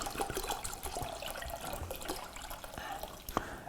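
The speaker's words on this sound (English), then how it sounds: "You just take a full bottle of wine, pour it into your pot, and you start heating it." A full bottle of wine pours into a cooking pot for mulled wine, a steady, continuous liquid splashing and gurgling that runs unbroken at moderate loudness throughout.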